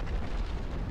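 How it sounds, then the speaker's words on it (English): A ship blows up in the naval battle game Naval Action, a dense, loud, low booming roar that fills the whole moment without a break. "There's the explosion."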